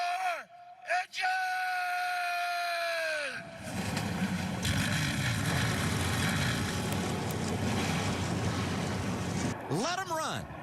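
NASCAR O'Reilly Auto Parts Series stock cars fire up together at Daytona for the United Rentals 300. A long, drawn-out tonal voice comes first, then a broad, loud engine roar holds steady, and another sweeping voice tone returns at the end.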